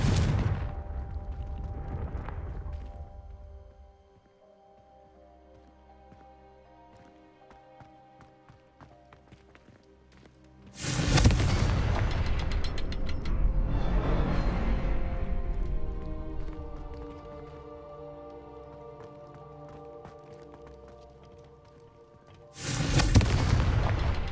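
Confringo blasting spells explode in the Hogwarts Legacy video game, with three loud booming blasts at the start, middle and end, each trailing off into a rumbling decay over quieter game ambience.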